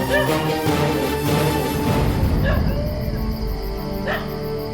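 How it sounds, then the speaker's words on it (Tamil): A dog barks and yips repeatedly, loud and close, against a busy background with voices in a Tamil TV drama. "என்ன நாய் விடாம குலைச்சிக்கிட்டே இருக்கு?"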